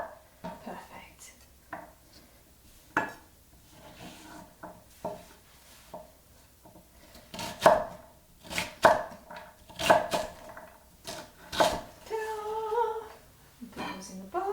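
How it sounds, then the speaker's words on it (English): A kitchen knife chops vegetables into long sticks on a board, a run of sharp irregular close taps that quicken and grow louder toward the end, with a faint murmur underneath. "So I chop them into long sticks"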